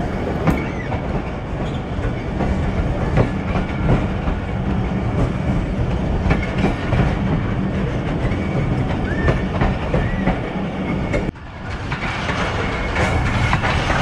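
The Thal Express passenger train, running between Rawalpindi and Multan, rolls along the rails with a loud, steady rumble and rhythmic clickety-clack, heard close and continuous with a brief dip near the end.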